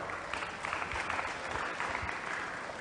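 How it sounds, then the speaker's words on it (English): A studio audience at an English debate applauds the contestants with steady, moderately loud clapping that holds throughout. "give a big round of applause for our contestants"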